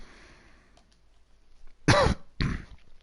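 Two sharp, loud coughs in quick succession break a quiet background, close to the listener.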